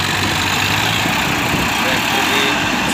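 Two Farmtrac 60 tractors idle after hauling a rotavator, their engines a loud, steady rumble throughout, with a voice talking over them.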